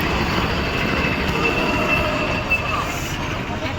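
A train rolls past on the rails at Cuttack station, a loud, continuous rumble of wagons with a thin high wheel squeal running along on top.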